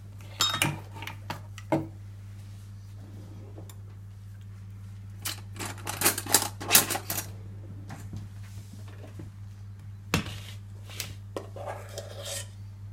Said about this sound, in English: And that can be transferred into the bun cases with a spoon.